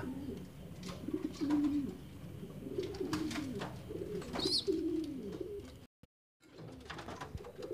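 Pigeons coo repeatedly in low, throaty bursts while pecking at peanuts, the calls overlapping in an irregular rhythm close by, with faint rustling and a brief dropout near the end.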